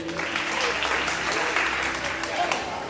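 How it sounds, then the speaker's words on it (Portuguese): An audience claps for Wanderson at the I EMCINE gathering: a short, steady burst of crowd applause, fairly loud and continuous, with some voices murmuring through it. "Palmas para o Wanderson."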